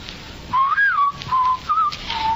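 A man whistles a tune indoors in a series of clear, bright melodic phrases with short pauses between them, close and alone with no talking.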